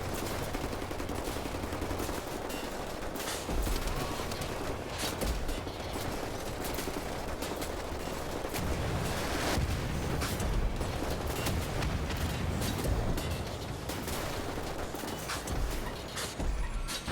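A Gatling gun fires continuously in the shooter game Wolfenstein: The New Order, a loud, dense and unbroken roar of rapid gunfire that lasts the whole stretch, mixed with game effects and no speech.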